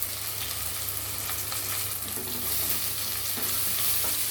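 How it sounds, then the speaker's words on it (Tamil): Ginger, garlic and crushed cinnamon, cloves and fennel fry in a pan for a vegetable biryani, giving a steady, moderate sizzle with occasional stirring scrapes and no talk. "இஞ்சி பூண்டு போட்டுக்கலாங்க."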